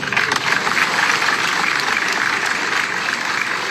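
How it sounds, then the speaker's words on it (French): Sustained audience applause at a formal ceremony, a dense wash of clapping heard at moderate distance, steady and unbroken with a faint low rumble underneath. "pour les applaudissements."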